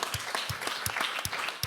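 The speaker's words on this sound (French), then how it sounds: "je vais vous inviter d'ailleurs à applaudir pour remercier en tout cas nos invités" Audience applause thanks the guests at a Deeptech Tour conference closing in Rennes, with a loose crowd clapping nearby and individual claps standing out.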